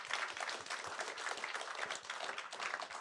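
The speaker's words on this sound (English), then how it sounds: "I want you to clap for her." Audience applause fills a meeting hall during a panel event, a steady dense wash of many hands clapping at moderate level with no pauses, a few faint voices mixed underneath.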